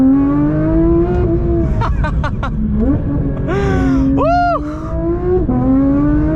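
A Porsche 992 GT3 engine accelerates hard, its rising howl climbing through quick gear shifts with brief tire or shift noises, loud and close, while a person whoops briefly over it.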